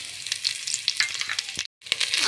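Whole spices sizzle and crackle in hot oil in a heated pot while chicken biryani is prepared, a steady close frying hiss that cuts out briefly for a moment before resuming.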